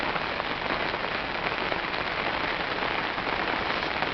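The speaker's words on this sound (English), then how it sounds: "Absolutely tipping it down the rain." Heavy rain drums steadily on a fishing bivvy at a lakeside bank, a dense, continuous close patter with no pauses and no voices.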